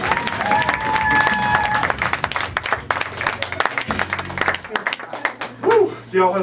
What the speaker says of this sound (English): Give a round of applause for Matthew and Sarah